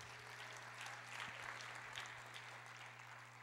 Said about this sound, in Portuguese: Você não merece uma salva de palmas para o Senhor Jesus?